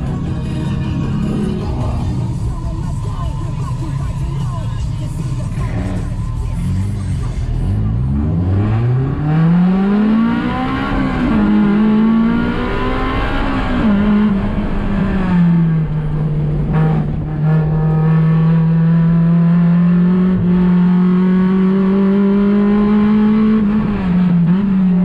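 Cars at a VTEC club touge event race along a mountain road, engines roaring loud and close, revving with rising pitch and then holding a strained, steady high drone through the rest of the run.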